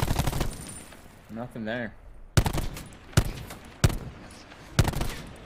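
Single sharp shots spaced about a second apart in the shooter game Call of Duty Black Ops 4, each crack loud and close, with a short spoken line just before them.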